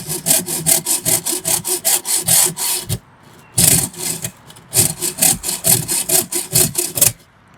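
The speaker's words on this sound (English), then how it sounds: "a hacksaw is not the best tool for cutting track" A hacksaw cuts through model railway flexi track in quick, steady back-and-forth strokes. There is a brief pause near the middle, then the rhythmic rasping picks up again. The sawing is close and loud, with no voices.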